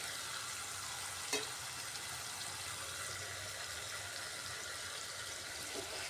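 Fried pointed gourd and grated boiled potato being stirred and sautéed in a pan, with a steady soft sizzle, a faint clink near the start and another toward the end, no voices.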